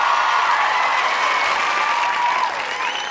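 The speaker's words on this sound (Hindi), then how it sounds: "आपकी तालियां बताएंगी इन खवातीन में से सबसे खूबसूरत कौन लग रही है" Crowd applause at the HUM TV awards show in Kashmir during a best-dressed award, a loud, sustained wash of clapping that eases slightly near the end.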